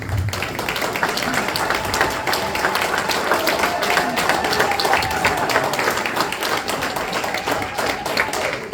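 An audience at a Buganda youth convention in London claps together in welcome of the Katikiro of Buganda, a dense, steady applause from many hands sustained throughout at close range, with crowd murmur mixed in.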